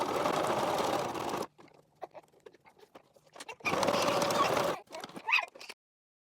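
A sewing machine stitches the edges of a fabric double-zipper diaper pouch in two loud, steady whirring bursts, separated by a quiet pause with soft handling clicks and followed by a few short stitching spurts.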